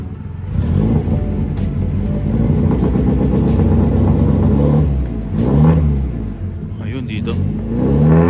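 A 1990s Toyota Corolla, smoking with white exhaust, runs at close range and revs several times, its rising and falling engine note under someone talking throughout.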